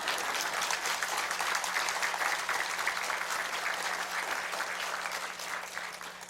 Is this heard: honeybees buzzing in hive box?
no